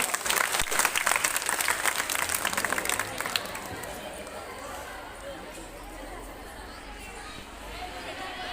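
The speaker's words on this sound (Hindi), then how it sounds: "एक बार और जोरदार तालियां।" An audience claps loudly at a girls' school Independence Day celebration, dense applause with some chatter for about three seconds, then dying down to a murmuring crowd.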